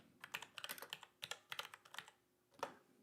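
Quiet typing on a computer keyboard during a software webinar, irregular bursts of light key clicks with short pauses, close and without talk.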